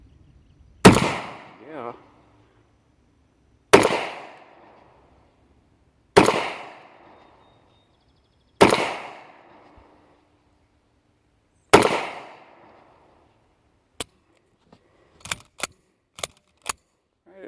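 A Rock Island 22 TCM pistol fires five loud, evenly spaced shots at a steel target, each with a ringing decay, followed by a quick cluster of sharp, faint clicks. A person speaks briefly.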